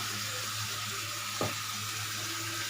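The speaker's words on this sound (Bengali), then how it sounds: "যতক্ষণ না মশলা থেকে তেল বেরোচ্ছে ততক্ষণ আমি এটাকে ভালো করে কষিয়ে নিব" Ground spices, cumin and curry powder, frying in hot oil for an egg curry: a steady, close hiss and sizzle that runs throughout, with one brief stir in the middle and no talk.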